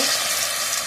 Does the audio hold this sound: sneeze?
no